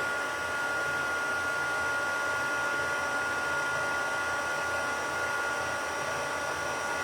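A heat tool melts embossing powder on a stamped card until it turns shiny, giving a steady, close, even blowing whoosh like a hair dryer that runs unbroken throughout with no talk.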